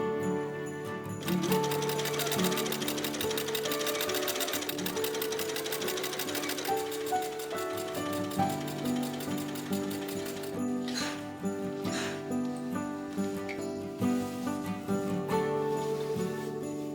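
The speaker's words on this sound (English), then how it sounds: "I am going to sew together center," Sewing machine stitching dress panels together, its rapid needle rhythm running steadily and close for most of the stretch, with a tonal musical backdrop underneath.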